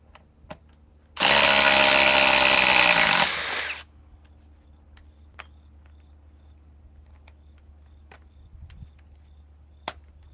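A Ryobi cordless impact-style power tool rated at 2,200 inch-pounds drives loudly for about three seconds in one continuous burst, then stops, leaving quiet room tone with a few faint clicks.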